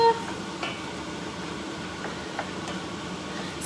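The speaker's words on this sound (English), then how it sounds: "Give it a stir." Food being stirred in a pan while a spicy tomato bacon salad is cooked, with soft scraping and faint sizzling under steady kitchen background, a few light clicks of the spoon against the pan.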